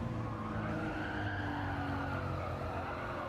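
Car tires slide and scrub through a corner in a racing video game time trial, a steady, continuous skid layered over a droning engine, loud and unbroken, with no talking.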